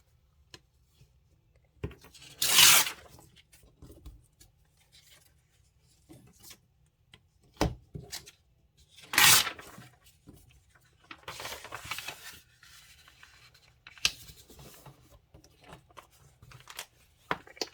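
A paper bag is trimmed down for a handmade scrapbook journal, giving a few crisp snipping and rustling bursts. Each short burst is separated by long quiet pauses, with faint handling noises in between.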